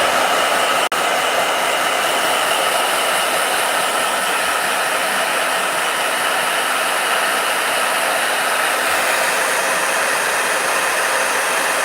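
A blow dryer runs continuously and loudly up close, a steady high whooshing roar of airflow over a motor hum with no breaks or talking.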